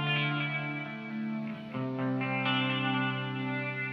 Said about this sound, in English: See, it's just a beautiful delay,